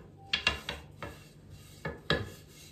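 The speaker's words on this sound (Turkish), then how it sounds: "Oklavanın yardımıyla daha güzel açtı." A wooden rolling pin works pide dough on a table, making a handful of quiet, close, dull knocks and rubbing strokes in an uneven rhythm, with no voices.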